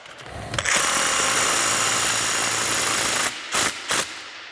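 Power tool tightening a nylock nut on mud flap mounting hardware, with a loud, steady whir lasting about three seconds, followed by two short bursts as the nut seats.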